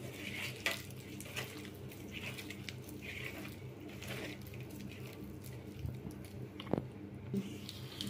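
Dry rice flour dough for ariselu being mixed by hand in a bowl, with soft squishing and rubbing sounds and occasional light clinks of a vessel, steady and close, with no talk.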